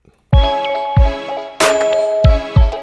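Bright, metallic bell tones in a music production mix: a melodic sequence of struck notes over deep kick-like thumps, with ringing sustained harmonics and a louder accented hit midway, no voices.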